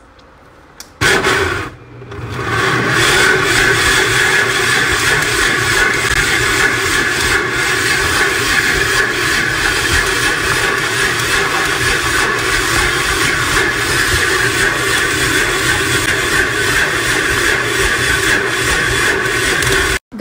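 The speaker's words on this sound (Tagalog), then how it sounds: "Paikotin natin ang makina ng 10 minutes." A mixer machine kneading stiff bread dough for Iraqi samoon, starting with a click and then settling into a steady, continuous mechanical whir and rumble that runs unbroken at an even level until the end.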